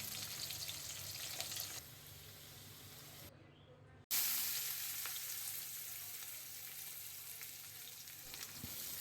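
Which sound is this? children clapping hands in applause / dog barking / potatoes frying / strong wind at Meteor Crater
potatoes frying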